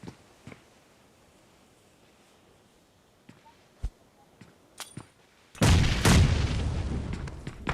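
A grenade explodes in an online shooter game as a sudden loud blast followed by sustained rumbling debris noise, after several seconds of quiet with scattered distant shots and clicks.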